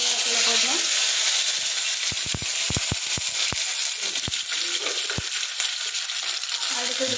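Mustard seeds frying in hot oil, a loud continuous sizzle with a cluster of sharp popping crackles in the middle, close up.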